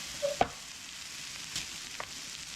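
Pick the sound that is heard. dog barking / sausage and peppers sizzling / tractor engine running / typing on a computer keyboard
sausage and peppers sizzling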